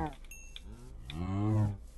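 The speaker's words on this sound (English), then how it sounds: "Come here, cow!" A Minecraft cow gives a single drawn-out low moo, rising in the second half of the brief clip, heard up close with faint game clicks before it.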